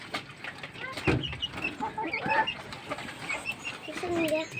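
Rhode Island Red chickens cluck and murmur at close range in a busy coop, with scattered soft calls overlapping and a few louder squawks rising above steady background rustle.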